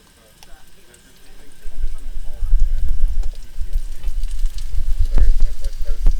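Food put back into a hot pan crackles and spits in a dense, close sizzle that swells after a quiet start and keeps going, with someone talking over it.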